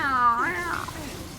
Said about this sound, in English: Doesn't it sound like a cat?